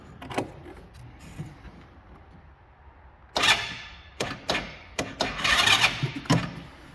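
A 125cc motorcycle engine cranks on choke with a weak battery: several short bursts of starter grinding separated by pauses, the later attempts louder and clustered, with no speech.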